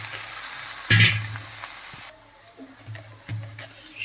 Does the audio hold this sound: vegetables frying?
yes